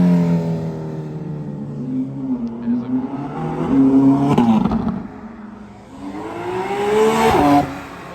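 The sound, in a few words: cars revving out of a car meet: Mercedes, Ferrari, Porsche GT3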